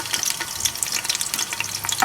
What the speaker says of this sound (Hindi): मैंने इसमें ऑलरेडी ऑयल डाली है, गर्म भी हो गया है। इसमें आप पहले अपने अनियंस ऐड कर लें